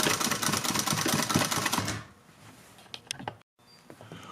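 A sewing machine runs in a fast rhythmic burst for about two seconds while stitching down the pleats of a fabric face mask, then stops, leaving a few faint clicks and handling noises.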